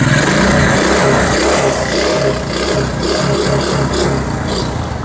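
A car engine revs steadily during a throttle check, a loud continuous mid-pitched drone with a gentle pulsing rhythm and a faint clatter, heard close with no talking.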